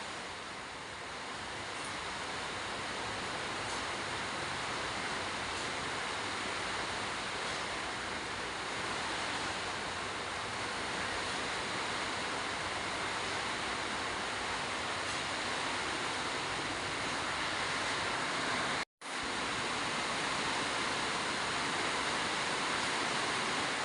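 Heavy rain pours onto a house that leaks at its edges, a dense, steady roar that fills the whole stretch with one brief dropout near the end.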